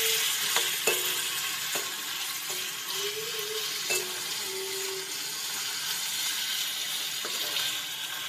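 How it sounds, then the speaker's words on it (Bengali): Thin-cut potatoes sizzle in oil as they fry lightly, a steady close crackle broken by a few sharp clinks of a stirring utensil, with no talk. "একটু হালকা হালকা ভাজা ভাজা করে দেবো।"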